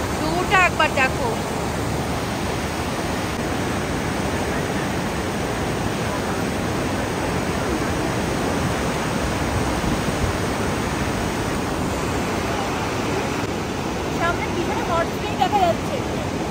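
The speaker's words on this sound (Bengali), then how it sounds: "আর পার্বতী রিভারের ফ্লোর কি আওয়াজ, প্রচুর, এই যে প্রচুর ফ্লোর।" A dense, unbroken roar of the fast-flowing Parvati River near Manikaran and Kasol fills the air close by, with a few faint voices surfacing briefly at the start and near the end.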